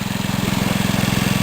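A small engine powering a beach gold-prospecting pump setup runs steadily and loudly up close, with a fast, even pulsing chug and a strong low throb.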